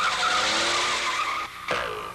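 A demo car whips around a tight, small-radius corner with a hissing tire skid, a brief screech that dips for a moment, then surges back and fades.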